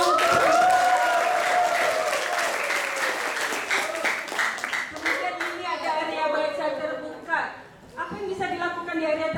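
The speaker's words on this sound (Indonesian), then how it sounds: "Bangga dong, tepuk tangan dong." Students at a university engineering faculty library orientation break into loud, dense applause that fades after several seconds, leaving a crowd murmur with speech coming through near the end.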